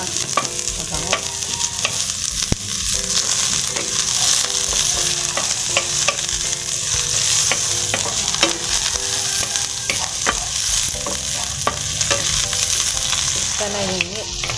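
Red onion sautés in hot oil in a pan for ginisang monggo with a loud, continuous sizzle, stirred now and then with scraping clinks of a utensil, close up and with no voices.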